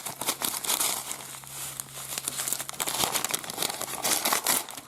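Letter paper crinkling as it is unpacked from mail, close and fairly loud, with a continuous run of sharp rustles and crackles and no speech.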